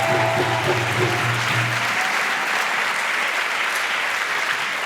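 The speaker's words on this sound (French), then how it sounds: "que je vous demande d'applaudir encore." A crowd at a municipal election rally for Elsa Marcel in Saint-Denis applauds loudly and steadily throughout, with a low hum fading out under the clapping in the first two seconds.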